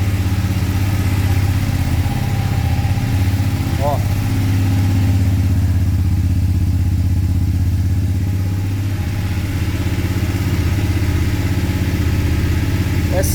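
A BMW F750GS motorcycle engine idles steadily with a low, even rumble, briefly rising once; a person speaks a short word under it.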